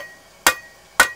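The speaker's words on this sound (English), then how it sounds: "You want to keep this kind of at an angle on your anvil and work that taper back." A hammer strikes a hot steel taper on an anvil during blacksmith forging. Two sharp, ringing blows land about half a second apart, each with a short metallic ring.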